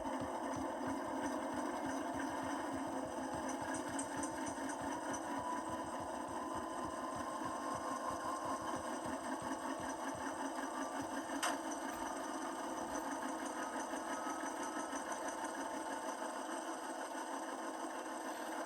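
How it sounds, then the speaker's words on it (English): An Athearn Genesis HO-scale Union Pacific AC4400CW diesel locomotive with a Tsunami sound decoder throbs steadily as it is notched up toward notch 8, a continuous rhythmic engine drone with fine chugging pulses, fairly quiet and without speech. "I'm going to hit F26, and I'm going to keep hitting it until we're at notch 8 in this locomotive"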